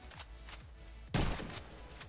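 A single loud gunshot from a Mag7 shotgun in the shooter game Warface, followed by a short mechanical reload rattle, with quieter repeating footstep-like thumps before and after.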